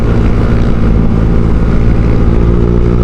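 A Honda Vario 150 scooter with a Kenziro aftermarket exhaust idles with a deep, steady exhaust rumble, loud and close, with no talking.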